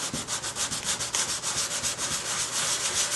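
Sandpaper rubs across a car body panel during paint prep in steady, rhythmic back-and-forth strokes, close and continuous with no talking.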